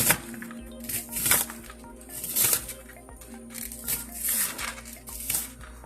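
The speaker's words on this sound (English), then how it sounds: "I'm just kind of running my knife, rough chopping it through." A knife rough-chops an onion on a cutting board, irregular crisp thuds and slices in quick bursts, close by, with no talking.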